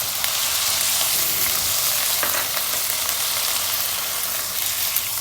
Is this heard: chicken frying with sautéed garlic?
yes